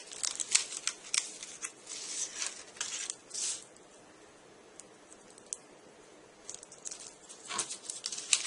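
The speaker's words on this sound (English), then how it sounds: "so let's do the tabs with the scissors" Scissors snip at paper tabs while building a model airport jetway: a quick run of close, sharp cuts at the start, a pause, then a few more snips near the end, with no talking.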